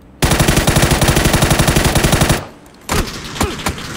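M4 rifle fired in PUBG on PC, a loud, rapid automatic burst of evenly spaced shots lasting about two seconds, then a short pause and a few more scattered, echoing shots.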